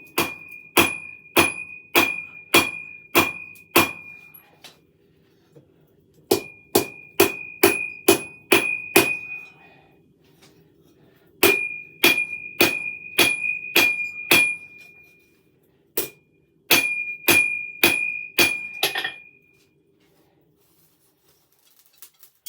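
A hammer forges a knife blade on an anvil in a smithy, ringing metallic strikes in steady bursts of several blows separated by short pauses, loud and close, with no talk.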